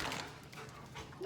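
A dog pants and whimpers softly at an open door on a sunny summer day, faint and close, with light breathy sounds and a brief whine near the end.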